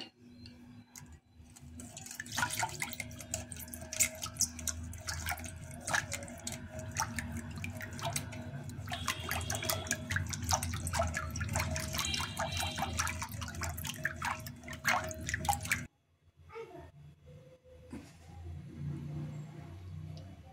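Spiced buttermilk with cumin and coriander is churned using a wooden churner, giving a close, continuous sloshing and splashing with rapid irregular liquid clicks, pausing briefly before resuming more softly.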